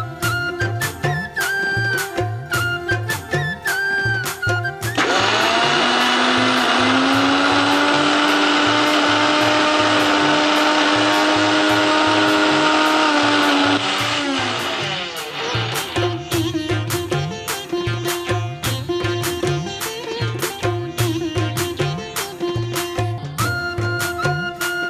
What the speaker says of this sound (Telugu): సో నేను మిక్సీ పట్టుకుని వచ్చేస్తాను అయితే